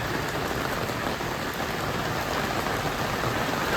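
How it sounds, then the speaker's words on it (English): Heavy rain drums on a Vevor gazebo roof in a constant, loud, dense hiss with no break, the close patter of drops blending into a steady wash. "Rain, rain, rain."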